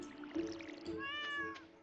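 A cat meows in the video game Stardew Valley: a soft, rising meow rings out over quiet game ambience in the middle of the moment, faint and brief, with no voices.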